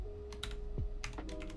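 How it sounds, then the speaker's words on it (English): Fingers type quickly on a computer keyboard, giving close, crisp clusters of key clicks with short pauses between bursts and no talking. "so I'm just gonna type in"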